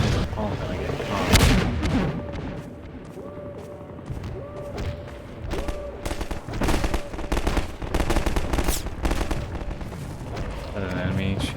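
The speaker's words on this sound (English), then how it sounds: "Is that an enemy shooting at me?" Enemy gunfire in a video game: rapid bursts of automatic shots and heavy booming blasts crowd the mix, loud and dense throughout, with faint game sounds underneath.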